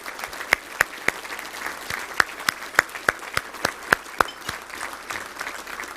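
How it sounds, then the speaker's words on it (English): A banquet audience at the 2019 Little Rock Touchdown Club awards banquet claps, with sparse separate claps standing out sharply over a thin steady patter of applause through the whole stretch. "Let's give them a round of applause."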